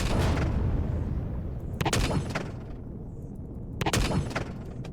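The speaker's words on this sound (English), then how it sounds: "you just keep shooting down this hole here" Gunfire in Empyrion Galactic Survival, shots fired down a hole, heavy booming bursts in quick clusters, loud and close with echoing decay between volleys.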